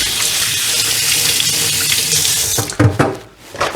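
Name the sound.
rinsing hands under a running tap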